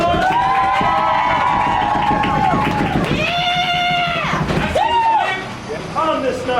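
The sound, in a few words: audience applauding and cheering for the haunted attraction cast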